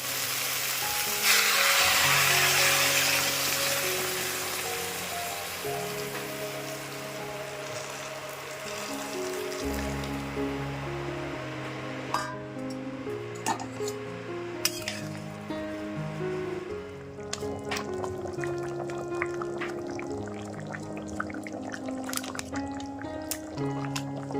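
Water is poured into a vegetable curry cooking in a pan, making a sustained, rushing hiss for several seconds. Softer sizzling follows, with scattered clinks of utensils against the pot.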